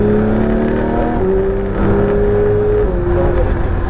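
A Porsche GT3 accelerates hard around the Circuit du Laquais, its engine note loud and close from inside the car, climbing steadily, dropping at a gear change, then climbing again.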